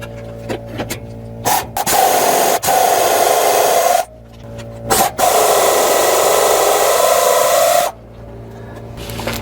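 Power-driven loosening of the bolts on a rear differential cover (aFe Power-Pro Series), coming in two sustained whirring bursts of a few seconds each, with short clicks and pauses between them, close and loud.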